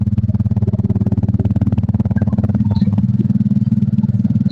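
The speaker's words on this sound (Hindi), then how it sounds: "मोटरसाइकिल" Motorcycle engine running steadily on a ride to a Durga Puja fair in Ramgopalpur, a continuous loud, even low rumble close by with no pauses or speech.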